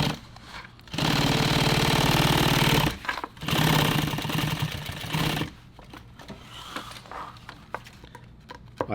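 Sewing machine stitching a nylon tactical pouch, running in two loud sustained bursts with a brief pause between, then stopping and leaving faint handling clicks.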